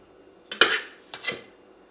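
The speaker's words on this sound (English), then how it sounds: "we want to stir them in by hand, because otherwise they'll get pureed in with the chickpeas" Chickpea burger mixture being stirred by hand in a bowl, two scraping, clattering strokes of a utensil against the dish, close and fairly loud, with no talking.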